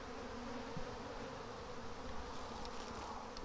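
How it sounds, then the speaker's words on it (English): Bees buzzing inside a swarm trap box, a dense continuous hum from many insects, steady and fairly faint throughout with no talk. "Still a lot of bees in this box."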